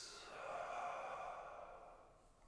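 A single slow exhale through the mouth during a vinyasa flow yoga class, a soft airy breath that swells and fades over about two seconds, close and quiet with no talk.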